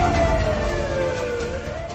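A wailing ambulance siren sweeps up and down steadily, loud and close, over a dense rumble of traffic noise.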